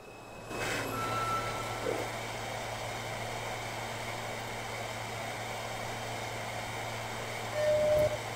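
An NYC subway C train in Trainz Simulator 2012, a steady low rumble of the running train with a louder surge near the start and again near the end, and no talk.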